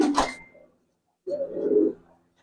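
Red Giribaz pigeons coo nearby, a short rustle at first, then after a pause a single soft, low, throaty coo lasting under a second.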